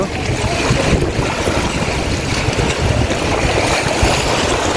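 Continuous churning water of the Padma River with a low rumble and wind noise, even and unbroken for the whole stretch.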